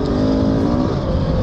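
A Gas Gas motorcycle engine revs loud and close under throttle, a steady harmonic drone with a slight rise and fall over a short burst.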